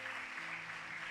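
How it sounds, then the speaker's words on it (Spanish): A church congregation claps during a Spanish-language sermon, a brief, faint, even patter of many hands heard from a distance with a low hum beneath it. "Pues denle un fuerte aplauso a Jesucristo."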